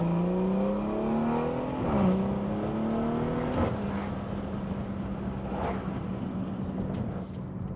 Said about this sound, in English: Y'all boys hear the car right now?